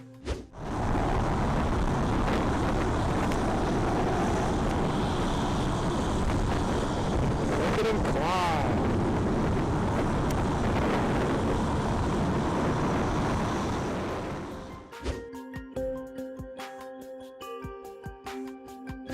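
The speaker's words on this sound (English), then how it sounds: "we see the F-16 as it vertically takes off on a runway in Colorado." A loud, sustained jet engine roar from an F-16 fighter jet taking off from a runway in Colorado fills the air for about fifteen seconds, then drops away abruptly.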